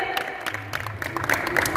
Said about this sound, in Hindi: एक बार जोर से तालियां बजाकर भाई साहब का स्वागत करें